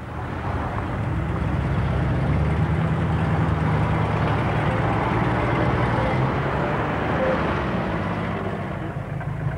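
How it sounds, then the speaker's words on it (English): Elderly classic car engines rumble along country lanes near a stately home during a late-summer autojumble, a continuous low, dense throb that holds steady throughout with no voices. "the lanes around Lord Montagu's stately home at Bewley throb to the rumble of elderly engines"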